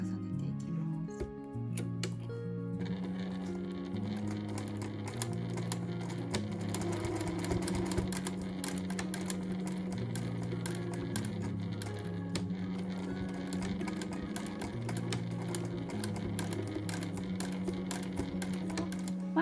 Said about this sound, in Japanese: で縫い留める時はミシン目を重ねていきます。